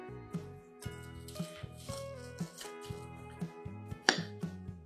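A knife cuts through a crisp grilled veg sandwich with cheese, making a regular series of sharp crunching strokes roughly twice a second over soft tonal background music.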